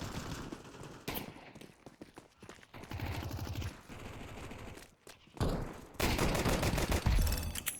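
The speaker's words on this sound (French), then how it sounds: "Je lui tire un autre flingue." Gunfire in a video game, a gun-game weapons match: rapid bursts and volleys of shots alternating with quieter stretches, loud and close, ending in a dense barrage with no speech.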